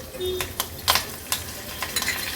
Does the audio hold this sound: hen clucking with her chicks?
no